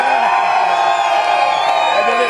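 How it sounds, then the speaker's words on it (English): A crowd at the Alice Springs Masters Games opening ceremony cheers and whoops steadily, a loud mass of voices with an amplified voice over it. "give yourselves a big cheer"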